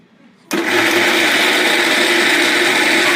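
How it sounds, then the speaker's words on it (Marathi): A mixer grinder whirs on suddenly and runs loud and steady, grinding tamarind seeds for a village-style snack, a continuous high motor whine after a quiet start. "चिचकी वाटून घेते"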